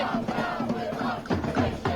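Protest crowd chanting slogans in Times Square, New York, demanding an end to attacks on Iran; loud massed voices in rhythmic call-and-response bursts, close and continuous.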